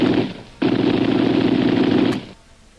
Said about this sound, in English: He's firing over their heads, Abu.